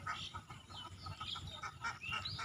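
A dense flock of ducks on a duck farm, with overlapping quacks and honking calls coming thick and continuous at close range and no pause between them.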